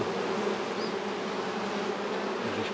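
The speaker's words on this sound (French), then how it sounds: "Là on a un frelon, ouais, il est éloigné" An Asian hornet hovers at a distance near a beehive, its thin buzz blending into the steady, dense drone of many bees taking off around the hive entrance, continuous and fairly faint throughout.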